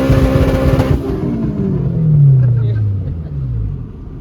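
Car engine pulling hard in fourth gear on a road drive, a rising then falling rumble with a strong low tone sweeping upward mid-clip; voices talk over it at first.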